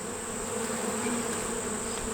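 Honey bees drone steadily inside a hive colony being fed syrup, a dense continuous buzz held close and even throughout with no voices.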